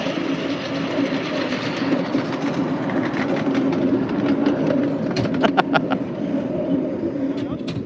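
A 5-inch gauge live steam locomotive rattles steadily along a miniature railway track at Brent House, with continuous clickety-clack and sharp metallic clicks near the end, under occasional talk.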